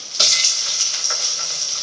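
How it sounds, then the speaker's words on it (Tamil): Tomatoes go into a hot pan for a fish curry, a steady close sizzle breaking out with a sharp burst as they land, then holding a bright, even frying hiss with faint stirring scrapes. "இந்த தக்காளி ஒரு 2 தக்காளி போட்டு வதக்கணும்."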